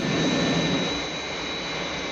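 The Spectrum jet from Captain Scarlet flying to New York, a steady roaring jet engine with a faint high whine, loud and unbroken, swelling slightly at first and then holding level.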